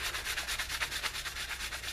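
A cloth rubs briskly over the finished underside of a wooden bowl, a close, rhythmic swishing of quick back-and-forth buffing strokes, about eight per second, with no talk.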